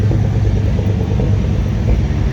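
The engine of a 1971 International Travelall 1210, just revived after 22 years, idles with a loud, steady low rumble heard up close.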